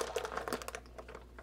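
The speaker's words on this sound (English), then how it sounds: "You see my little plastic bag here." A plastic Ziploc bag holding water, used to weigh down homemade sauerkraut, crinkles and rustles close by in a quick burst that fades to quiet within a second and a half.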